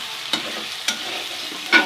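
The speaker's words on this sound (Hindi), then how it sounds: "तो आलू हो रहे हैं हमारे फ्राई" Potatoes and onions fry in a home kitchen pan with a soft, steady sizzle. Three short scraping stirs of the spoon against the pan stand out, the last one loudest.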